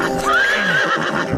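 A cartoon horse lets out a loud, close whinny that rises and then trails off, with a faint clatter of hooves underneath and no talking.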